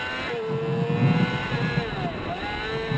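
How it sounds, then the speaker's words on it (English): Race cars roar past on a circuit, one lapping another, with engine pitch sweeping down as they go by. A loud, continuous drone sits under commentary. "Morrissey blasts by Gump Harrison, putting him a lap down"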